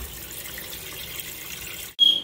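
Tap water runs steadily into a cooking pot for pork sinigang, a continuous hiss that cuts off briefly near the end before a short burst resumes.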